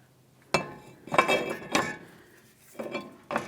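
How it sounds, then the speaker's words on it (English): Metal brake rotor fitted onto the wheel hub of a 2002-2005 Ford Explorer, giving several sharp clanks and clinks spaced across a few seconds, close and fairly loud, with no talk. "let's go ahead and put the rotor on"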